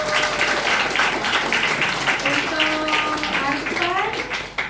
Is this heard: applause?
yes